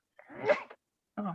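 A single close sneeze, sharp and breathy, followed by a brief exclamation from a voice.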